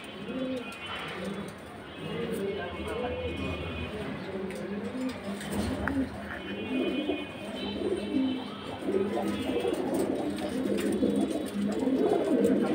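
Large pigeons coo in low repeated throaty bursts at a pigeon sale in Keraniganj, several birds overlapping close by against steady market background noise.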